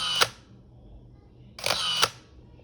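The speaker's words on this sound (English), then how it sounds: "In terms of sound, now that we've got an auto winder," Motor-driven auto winder on a Minolta X-700 film camera fires twice, each shutter release followed by a short whirring wind, sharp and close with a quiet pause between the two frames.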